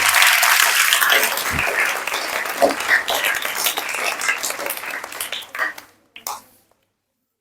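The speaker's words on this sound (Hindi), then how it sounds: "तो आलियान के लिए जोरदार क्लैपिंग होनी चाहिए।" Loud applause and clapping for a student in a school classroom, a dense crowd of hands sustained for several seconds before thinning out and stopping.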